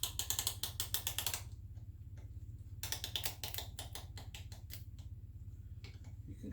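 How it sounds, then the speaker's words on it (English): Piston rings compress as a piston slides into a 5.3L LC9 engine, giving close bursts of fast, crisp mechanical clicking with short quieter gaps between them. "You can kind of hear the rings compressing."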